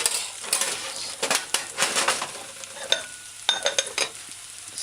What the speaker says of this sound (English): add your chopped carrots and your chopped onions and then stir in.